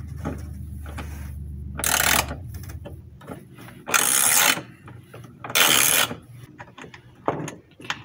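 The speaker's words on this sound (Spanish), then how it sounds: "voy a quitar el capacitor con una matraca y una llave 3/8." A ratchet with a 3/8 socket loosens the capacitor mount on a digital washing machine, giving three loud, close bursts of rapid clicking separated by quieter handling noises.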